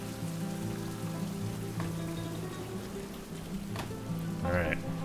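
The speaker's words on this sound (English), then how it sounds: "Alright, rain's done." Steady rain hisses across the scene in the survival game Survival: Fountain of Youth, a constant soft wash under faint game tones and a brief voice-like sound near the end.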